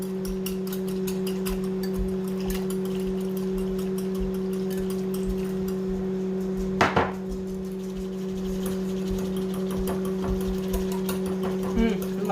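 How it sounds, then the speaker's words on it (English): A small mini whisk beats ingredients in a bowl for a chicken dish, giving a fast, steady run of light metallic ticks and scrapes over a constant low electrical hum, with one sharper knock partway through. "So I'm just gonna whisk this up."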